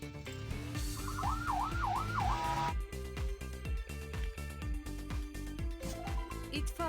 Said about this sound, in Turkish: Polis arabası.